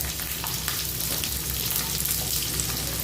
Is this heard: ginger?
yes